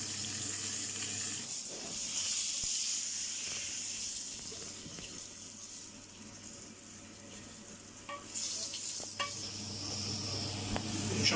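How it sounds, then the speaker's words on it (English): Onions caramelising in a hot pan for pan-seared rump steak, a steady sizzle and frying hiss with occasional stirring scrapes and a brief running-water burst near the end. "the onions will caramelise"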